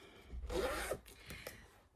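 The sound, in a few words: clothing zipper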